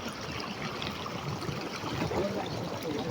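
A village stream runs in a channel leading to a water mill, giving a steady close trickle and gurgle at an even level, with no voices.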